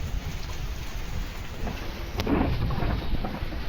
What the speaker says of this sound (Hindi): ये देखो भाई बिजली मारा था तगड़ा एकदम